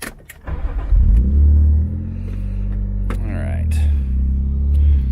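A 1998 BMW E36 328is engine cranks and catches, then settles into a steady, low rumbling idle, close by.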